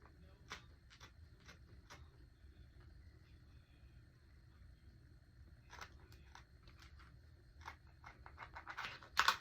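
Scissors snip through fabric for a sewn circle skirt, quiet bursts of crisp cuts in short clusters, a few early and then a faster run near the end, growing louder and closer.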